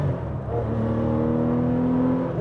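A Porsche 993 R fitted with a Super Cup engine revs up close and loud, its engine note climbing in a smooth, rising whine over a couple of seconds before easing off.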